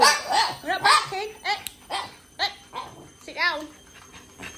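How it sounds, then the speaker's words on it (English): Pet dog barking and yipping indoors in a series of short, close barks spread across the clip, mixed with excited human voices. "We're not barking."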